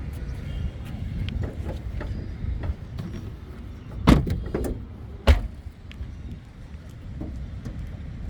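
A bonnet shuts on a 2018 Hyundai i20 Asta diesel hatchback: two sharp, close metallic thumps about a second apart stand out above a low, steady outdoor rumble.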